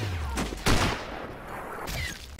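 Several loud gunshots crack in quick succession over a dense, noisy background of sound effects in the sniper video game Sniper Ghost Warrior.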